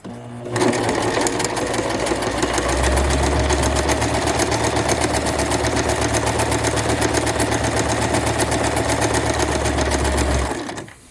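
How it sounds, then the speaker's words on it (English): A sewing machine stitches a dress hem close to a freshly folded edge, set to a lengthened stitch of about 2.75. It runs as one loud, steady, continuous whir for roughly ten seconds, with no talking. "we're going to stitch close to that new folded edge here to the left"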